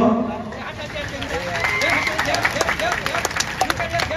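A crowd claps loudly at a magic show, a dense burst of many hands applauding together over people talking.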